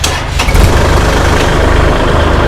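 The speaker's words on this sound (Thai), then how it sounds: "รถสตาร์ทติดง่ายนะคะ" A used Kubota L3608 tractor engine cranks and catches, then settles into a loud, steady, close rumble with no talking over it.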